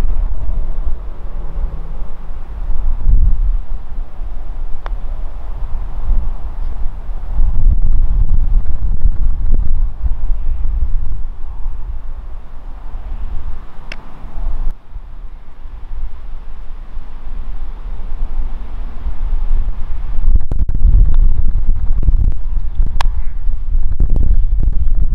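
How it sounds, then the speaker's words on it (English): Wind buffets the microphone on a high, exposed hole of a hilly golf course at Horseshoe Bay Resort, a steady low rumbling roar that swells and dips in gusts throughout, with no talking. "this course, a lot of the holes are set a lot higher, so you're a lot more exposed to the wind"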